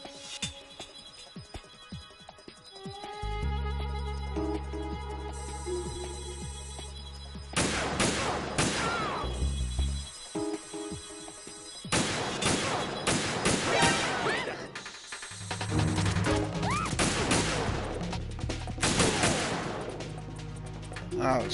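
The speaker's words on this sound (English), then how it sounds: "I've reached my sniping position on Strut E. I'll provide support fire from here." Sniper fire in Metal Gear Solid 2 from a position on Strut E, with loud gunshot cracks and bursts of automatic fire among explosions and game music, plus occasional voice lines.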